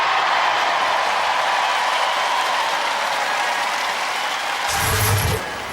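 A live Robot Wars studio crowd roars in a dense, loud, sustained wash of cheering and clapping that fades down slightly at the end.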